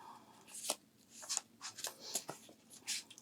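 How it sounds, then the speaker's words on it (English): Tarot cards shuffled by hand during a reading, giving a quiet run of soft riffling bursts and flicks spread irregularly over a few seconds, close by with no talk. "We'll do one more shuffle"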